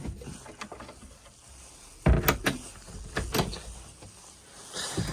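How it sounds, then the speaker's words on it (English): A motorhome kitchen drawer slides and bumps on its runners, a few sharp knocks and rattles followed by a soft gliding sound, close by. "Slide out drawer there."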